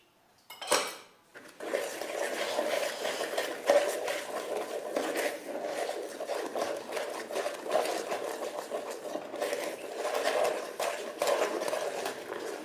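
Banana cake batter with cornstarch is whisked rapidly in a bowl, a dense continuous rattling whir of metal against the bowl that runs steadily after a brief knock at the start.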